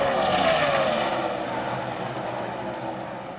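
NASCAR stock cars at the 2005 Dickies 500 race past. A loud, close engine roar slowly falls in pitch and fades slightly as a car goes by. No one speaks.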